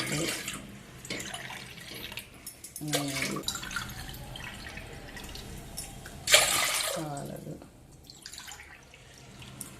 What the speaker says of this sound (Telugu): అదే గ్లాస్తో నీళ్ళు తీసుకుంటున్నాను ఒక ఐదు గ్లాసులు నీళ్ళు తీసుకోవాలి